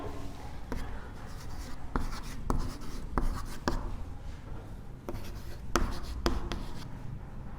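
Chalk or marker strokes writing numbers on a classroom board during a Class 3 Hindi maths lesson, a series of sharp scratchy taps and short scrapes spread irregularly over several seconds, fairly close with a steady room background.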